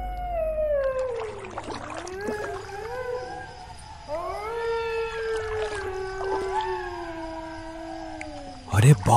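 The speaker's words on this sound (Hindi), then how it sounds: "ये सियार कितनी डरावनी आवाज में चिल्ला रहे हैं।" Jackals howl in long wavering, sliding wails, several overlapping calls rising and falling close by in a dark, eerie riverside scene, ending in a short burst of noise.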